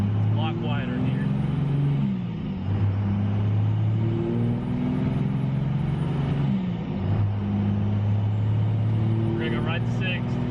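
Truck with an NV5600 transmission driving and shifting through its gears: a steady low engine drone that rises in pitch, dips at each shift, then climbs again, heard from inside the cab with someone talking over it.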